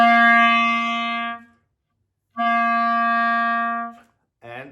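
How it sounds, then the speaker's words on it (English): Two sustained reed notes, each begun with a firm T tongue attack, separated by a short silence, with a third note starting at the end; bright, harmonically rich, close and unaccompanied. "Now I can start the note with T, it will sound like this"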